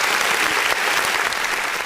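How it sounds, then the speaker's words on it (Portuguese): Studio audience bursts into loud, dense applause welcoming a physical education course coordinator as a guest on a fitness podcast, continuous and close throughout the short stretch. "Uma salva de palmas para"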